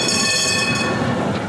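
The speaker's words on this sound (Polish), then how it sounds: "Na start parada z okazji 125-lecia tramwajów elektrycznych w Poznaniu" Electric trams rolling through Poznań in an anniversary parade, a loud continuous rumble of wheels on rails with high metallic squealing tones throughout, close by.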